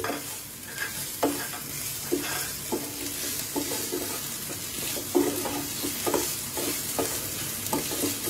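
Garlic, onion and chopped ginger fry in a pan with a constant sizzle, broken by repeated rhythmic scrapes and taps of a spatula stirring close by.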